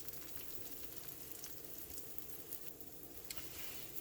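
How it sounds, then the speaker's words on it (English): Thin pancakes frying in a pan, a soft continuous sizzle with faint crackles and pops, close and steady with no talking. "when they're cooking like this, bubbles on the edge, so they're frying"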